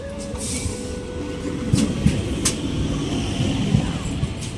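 A train rumbles steadily at a busy station, a continuous low roar with faint clanks and scattered crowd noise throughout.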